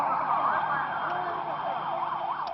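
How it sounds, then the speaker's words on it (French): Ambulance sirens wail in a repeating rising and falling pattern, loud and steady on the outskirts of a camp during fighting, with faint background noise. "les combats semblent se concentrer surtout à la périphérie du camp, où la ronde des ambulances était incessante."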